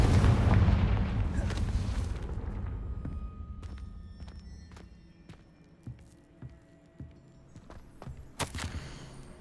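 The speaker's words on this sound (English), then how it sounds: "Confringo!" Confringo fire spell blast in the Hogwarts Legacy video game, a loud booming explosion that fades into a long rumbling decay, followed by scattered sharp impacts and clicks.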